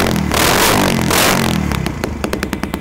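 A used Kawasaki KLX motorcycle engine started with its electric starter, a short crank that catches at once and revs loudly, then settles into a sputtering, uneven idle.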